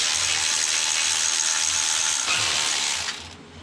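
A hand ratchet clicks rapidly and steadily while loosening transmission pan bolts on a Ford F150, a close, bright, continuous clatter that cuts off near the end.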